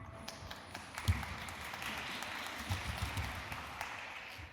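Faint, even audience applause from a science-communication panel crowd in Barcelona after a robot dog named Pluto performs, with a few sharper claps standing out against the soft wash.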